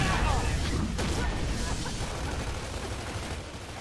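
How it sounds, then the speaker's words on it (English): Heavy gunfire in a multiplayer shooter game, a dense continuous roar of rapid shots and blasts that fills the whole stretch, loud and close. "We're taking heavy fire here."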